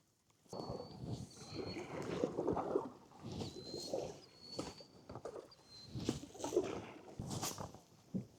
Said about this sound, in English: we'll get the motor up, put the paddle in the water.